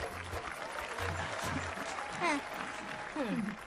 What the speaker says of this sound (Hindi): ये देख क्या रहे हो, तालियां बजाओ।